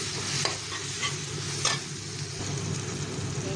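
Chili powder and turmeric are stirred into a sizzling paneer masala in a pan, a steady frying hiss under repeated scraping strokes of the spoon, close and fairly loud with no talking.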